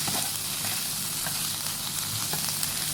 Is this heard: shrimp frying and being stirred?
yes